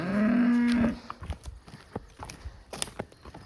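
Cattle on a farm give one loud, drawn-out moo close by, followed by scattered hoof clops and shuffling footsteps across the paddock.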